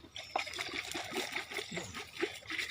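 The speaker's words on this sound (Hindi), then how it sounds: "अब इसमें तुम थोड़ा पानी डालो।" Water is poured into a compost frame full of dried material, a steady trickling and splattering stream with small irregular splashes, close and moderately quiet.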